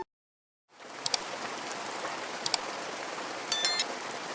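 Steady rain patters down in a soft continuous hiss, with a few sharper drips standing out, close and moderately quiet, with no voices.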